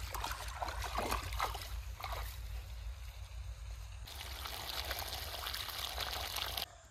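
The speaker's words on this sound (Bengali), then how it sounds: "ওই যে বন্ধুরা মোটর চালু হয়ে গেছে, জলও চলে গেছে খেতে" A motor pump runs in a flower field, with water gushing and pouring steadily into the soil over a low engine drone, the flow changing in intensity partway through.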